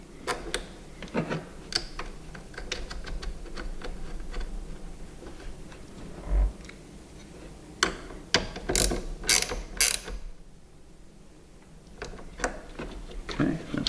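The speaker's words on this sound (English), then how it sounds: "These little ratchets here, and it's got the swivel head on it." A small swivel-head ratchet turning a bolt, giving rapid close clicking runs of the pawl with a few louder clacks and brief pauses, while someone talks over parts of it.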